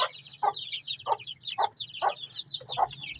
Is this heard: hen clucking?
yes